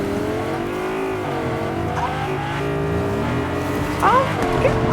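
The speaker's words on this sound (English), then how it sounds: "he's doing wheelies and burnouts" Car engine revving with squealing tires as it does wheelies and burnouts in a video game, a steady engine drone with rising pitch sweeps, game music or voices underneath.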